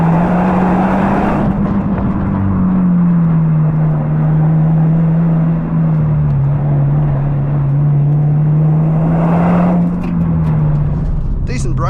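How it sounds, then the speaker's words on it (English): Steady exhaust drone from a 2024 Subaru WRX manual with sports exhaust while driving, a low bassy tone holding under road and wind noise, close and continuous with slight pitch wavering. "this sports exhaust system does sort of enhance the experience a bit as well"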